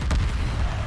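Missile corvettes launching missiles in the space strategy game Homeworld, firing on Turanic Raiders: a loud, dense booming burst of explosive fire that lasts under a second.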